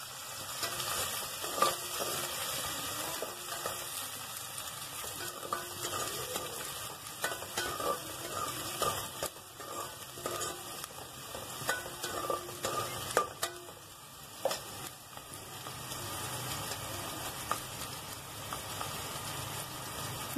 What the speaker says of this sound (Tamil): கொஞ்சம் கருவேப்பிலை எடுத்துக்கோங்க. அதுக்கப்புறம் வந்து வெங்காயத்தை நல்லா வதக்கிக்கோங்க.